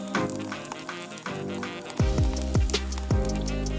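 Butter and a little oil crackle and sizzle in a pan, a steady close hiss broken by several sharp scraping strokes and clunks as the spoon stirs the fat around, with no voices.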